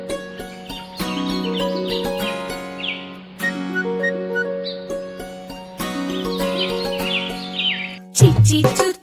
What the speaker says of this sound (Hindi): चींची चुर चुर करती चिड़िया